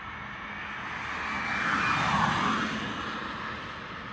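An Aptera electric car passes on a Formula One race track at Yas Island, Abu Dhabi, giving a faint, smooth rushing whoosh of tyre and wind noise that swells and fades with no engine note.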